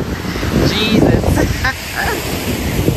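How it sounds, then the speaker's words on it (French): Waves splashing on a Barbados beach, a loud close rush of surf mixed with wind buffeting the microphone, while people talk excitedly over the water. "Oh, l'eau, elle éclabousse jusqu'ici."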